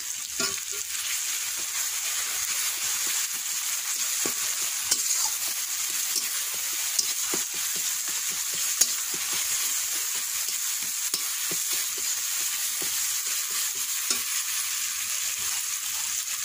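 Garlic paste goes into a pan of frying chicken masala, giving a steady, close hiss of sizzling oil with frequent soft scraping stir strokes throughout and no talking.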